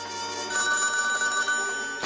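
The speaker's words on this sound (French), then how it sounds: "Le téléphone a sonné" An old telephone rings with a single sustained, bright electronic bell tone lasting about two seconds, clear and close with no talking.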